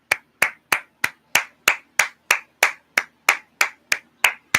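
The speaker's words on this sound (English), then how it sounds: "No, I'm clapping for you, ladies." One person claps for a team of women, crisp, close hand claps repeating at a steady, unhurried pace of roughly three per second, about fifteen in a row with near silence between them.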